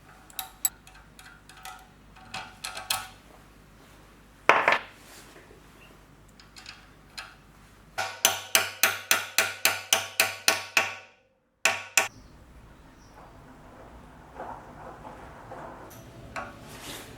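Sharp metallic tool clicks and taps ring out as rivet bolts are worked out of and back into a wheel rim, with a fast run of evenly spaced strikes in the middle and scattered clicks before and after.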